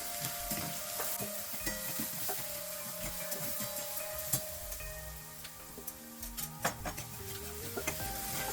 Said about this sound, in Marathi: आपण हे लसूण मिरचीचा ठेचा टाकणार आहे तो पण आता परतून घेणार आहे